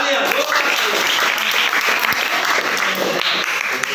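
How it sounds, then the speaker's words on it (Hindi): A ninth-grade classroom during an alphabet activity breaks into dense, even clapping that holds steady for the full four seconds. "तालियां।"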